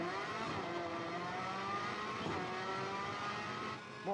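A car engine held at full throttle in a race, droning steadily and loud with a sustained high rev note, then dipping briefly near the end.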